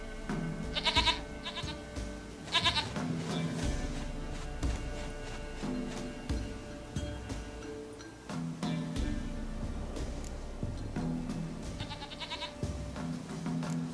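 Goats bleat in the video game The Witcher 3, several wavering bleats spread across the scene alongside game ambience and footstep-like clicks, moderately close.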